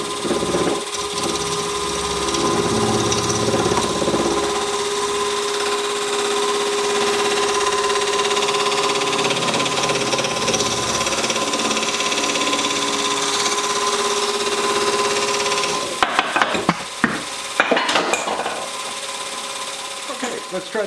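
A wood lathe turns a resin and dyed eggshell bracelet blank against EasyWood carbide cutters with negative rake, giving a steady motor drone with scraping cut, then stopping near the end with a few knocks; a voice talks over it.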